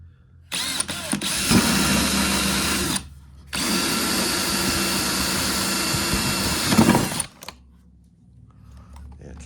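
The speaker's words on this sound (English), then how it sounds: "So let's drill the hole." A power drill bores a hole low in the side of a plastic chicken waterer, two loud sustained whirring bursts separated by a short pause, ending in quiet.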